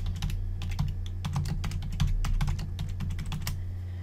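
Fast, steady clicking of keys as text is typed on a computer keyboard, close and clear over a constant low electrical hum.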